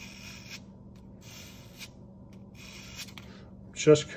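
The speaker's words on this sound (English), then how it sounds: "we're going to knock that down with just a little bit of 600 grit" Hand sanding of a Beretta 92Xi pistol sear with 600 grit paper, three short, soft raspy back-and-forth strokes separated by pauses, close and quiet, ending with a faint click.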